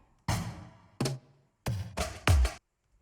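Drum roll sample from a hip-hop beat: five punchy, booming hits in an uneven sequence, each short with a decaying tail, loud and close, separated by brief silences.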